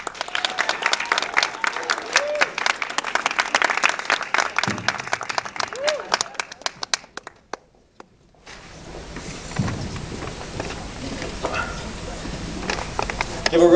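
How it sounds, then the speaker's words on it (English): Audience applause in a hall after a talk, dense clapping for several seconds that ends abruptly, followed by room noise and a voice speaking. "Give a round of applause to Varun Shaki for Poverty, the Power of One"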